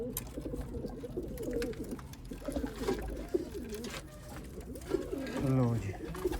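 Sialkoti pigeons coo repeatedly, their low rolling calls close by and overlapping, while someone talks over them throughout.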